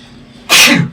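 One loud, close sneeze bursts out sharply after a moment of quiet room tone, with no one talking.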